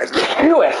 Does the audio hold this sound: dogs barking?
no